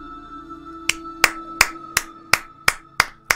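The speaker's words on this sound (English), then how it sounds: "Just have to clap at the trailers." Eight sharp, evenly spaced hand claps ring out loud and close over a steady low background hum.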